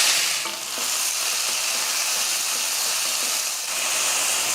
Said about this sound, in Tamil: எண்ணெய் காஞ்சதுமே கொஞ்சம் கருவேப்பிலை போட்டு நம்ம தட்டி வச்சுருக்க வெங்காயத்தை சேர்த்துடலாம்